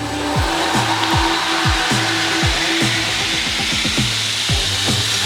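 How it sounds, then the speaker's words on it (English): A knife is ground on a grinder, steadied with a push stick, giving a loud, continuous machine whine with repeated sweeping, chirping grind strokes in a regular rhythm and no speech. "you can hold that knife there for a period of time while you get used to it and while you're getting to learn where that's going to grind"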